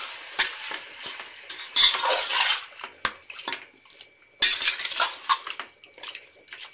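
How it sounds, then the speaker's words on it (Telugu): Chicken biryani mixture being stirred slowly in a pot, with irregular scraping and wet sloshing strokes in bursts and brief pauses, close and moderately loud, with no voices. "మెల్లిగా అంతా కలిసేలాగా కలుపుకోవాలి."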